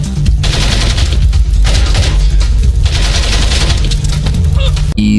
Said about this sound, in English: Take out this guy shooting the computers.